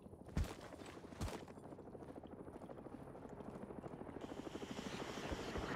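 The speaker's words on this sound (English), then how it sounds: "Incoming helicopter." In-game helicopter from ArmA III approaching during a military mission, a rapid rotor thump that grows steadily louder over a few seconds, with a couple of sharp impacts near the start and no talk.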